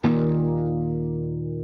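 A DI electric guitar played through an amp plugin sounds one sustained distorted chord that rings out and slowly fades.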